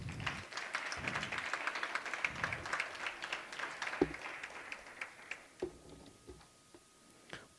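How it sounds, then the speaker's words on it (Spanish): Applause at a graduation ceremony: a brief round of clapping from a small crowd, moderately distant, thinning into a few scattered, slowing claps before it fades out. "Pido un fuerte aplauso, por favor."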